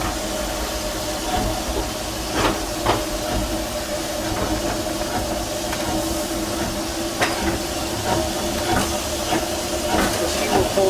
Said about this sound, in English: This is a blower and an atomizer.